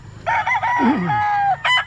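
Rooster crowing at a gamefowl farm, one loud close crow rising and falling over about a second, followed by a brief cluck-like burst.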